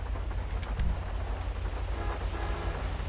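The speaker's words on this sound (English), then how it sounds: "the rain gets louder when you roll the windows down" Rain in the video game GTA V, heard from inside a car with the windows rolled down: a steady, even hiss of rainfall with a low rumble beneath, continuous and alone.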